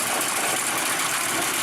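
A D25 locomotive engine runs steadily, a dense, even mechanical roar that holds at constant loudness throughout, close and continuous with no pauses.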